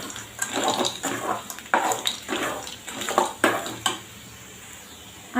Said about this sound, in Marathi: आता आपण सांडग्यामध्ये गरम पाणी घालून घेऊ।